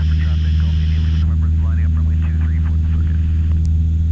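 Small training airplane engine droning at full power during stall recovery practice, a loud steady hum from inside the cockpit, with a voice talking over it.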